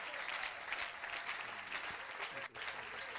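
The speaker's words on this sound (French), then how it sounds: "Est-ce qu'on peut acclamer le Seigneur?" A church congregation applauds and cheers in worship, with dense, continuous clapping filling the room at moderate distance and voices mixed into the crowd.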